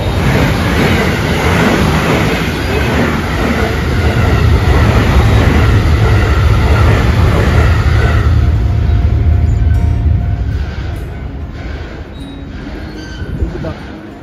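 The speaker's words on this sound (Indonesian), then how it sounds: "kita tunggulah dulu ya, kereta lewat." A train rumbles loudly past a level crossing in Japan, a steady heavy roll of wheels and carriages for about eight seconds before fading into quieter street ambience, with brief voices near the end.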